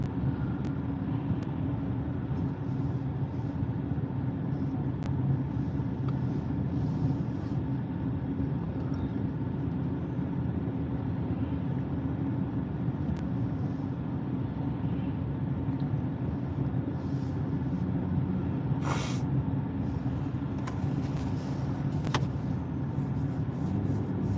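Road traffic passes in a continuous low rumble, fairly distant and steady throughout, with an occasional brief higher-pitched vehicle sound standing out near the end; no voices.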